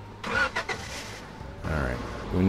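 Car engine cranking and catching in Roblox Lumber Tycoon 2, a brief whirring start that settles into a steady mid-pitched hum, fairly close with background game noise.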